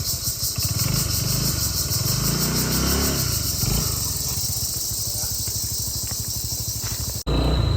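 A small scooter engine drones loudly and steadily throughout, close up, with rough buzzing as the scooter rides a rough hillside road in Thailand, then cuts briefly near the end.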